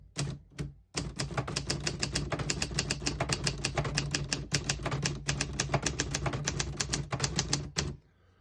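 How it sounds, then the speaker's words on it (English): Rapid, steady keystrokes on a 1961 Hermes 3000 manual typewriter, typing a line in red ink, with crisp close clacks in a continuous run after a couple of opening taps and a brief pause. "I'll type a sentence in red on the next line and switch from black to red."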